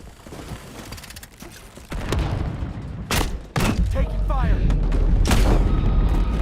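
Gunfire and heavy booming blasts in MW4 multiplayer, a few loud, sharp cracks standing out over rumbling explosions, with voices talking over the action.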